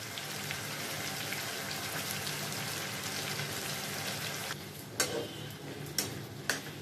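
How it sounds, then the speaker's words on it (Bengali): Tomato, onion, garlic and green chilli frying gently in a pan over a low flame: a steady, close sizzle that thins out toward the end, with a few sharp knocks and clicks near the finish. "এইভাবে আমি লো ফ্লেমে 5 মিনিট টমেটো পেঁয়াজ রসুন কাঁচা লঙ্কা সব ভেজে নিয়েছি"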